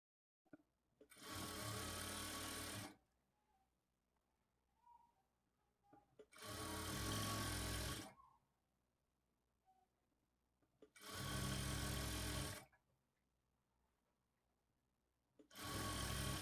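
A sewing machine stitching invisible thread piping on cloth runs in four loud bursts of about two seconds each, separated by quiet pauses.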